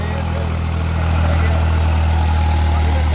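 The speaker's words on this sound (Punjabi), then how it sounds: "ਆਪਾਂ ਇਹ ਆਵਾਜ਼ ਸੁਣੋ ਆਵਾਜ਼ ਟਰੈਕਟਰ ਦੀ ਆਵਾਜ਼ ਬਹੁਤ ਪਿਆਰੀ ਆ" A New Holland 3630 4x4 Super Plus tractor engine runs with a steady, heavy low rumble and constant vibration, loud and close, holding even for the whole stretch.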